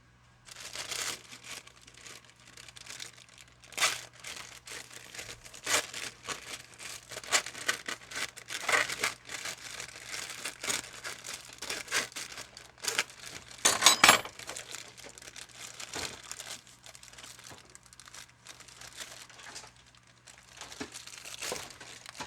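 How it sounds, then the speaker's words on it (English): A boxed cake mix package is opened by hand, giving a long stretch of irregular crinkling and rustling of plastic and paper with one sharper tearing burst partway through, fairly close and without talk. "first, you open your cake mix"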